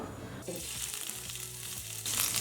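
Finely chopped ginger frying in about three tablespoons of oil in a pan for street-style veg fried rice, a dense close sizzle that swells louder near the end, with music faintly underneath.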